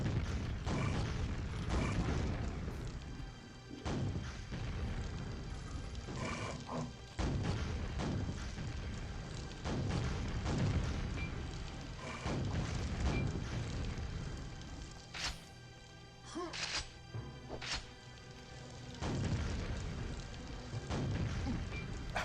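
Rocket launcher blasts in the video game Quake, a run of loud booming explosions with crashing debris at irregular intervals, dense and continuous with no talking.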